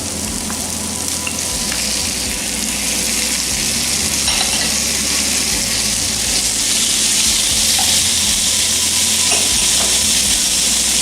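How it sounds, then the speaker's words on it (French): Onions and tomatoes fry in a pan with a loud, continuous hissing sizzle heard close up, joined by faint clinks and stirring scrapes throughout, with no talk. "Une fois les oignons légèrement cuits, elle ajoute ses tomates."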